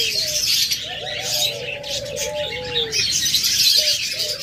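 Caged lovebirds and doves call close by in a breeder's collection, soft cooing tones drawn out and repeated over a bed of chirps and tweets, with no voices.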